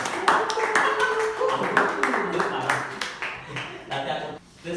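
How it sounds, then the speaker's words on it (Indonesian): A burst of scattered clapping from a school class, moderately loud and uneven, tapering off toward the end with a voice faintly present. "Tepuk tangan dong buat kalian"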